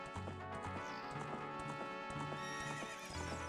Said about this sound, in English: That's my horse. That's my Epona.